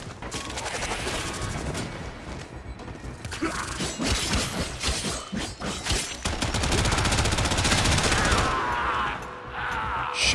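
Sustained bursts of in-game automatic gunfire from the Warframe shooter, loud and dense with layered mechanical clatter and crashes, continuing throughout with no talk over it.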